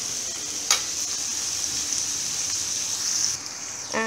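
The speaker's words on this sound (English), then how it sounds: "let it all get fried nicely" Vegetables for pav bhaji fry in a hot pan, giving a steady, close sizzle that runs unbroken for about four seconds, with a couple of brief louder crackles and no talking.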